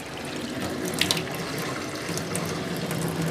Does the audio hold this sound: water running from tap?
yes